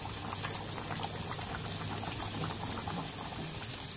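Fish curry bubbling in a pot on the stove, a steady close simmer of popping and gurgling liquid that runs evenly throughout with no talking.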